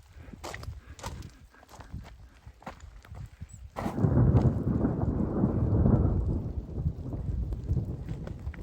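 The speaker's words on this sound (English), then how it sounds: "as the rain's coming down a bit" During a thunderstorm on the trail above Gilmore Lake in Desolation Wilderness, rain comes down alongside thunder and wind buffeting the microphone. A steady roar swells midway and lasts to the end, after scattered earlier knocks and footsteps.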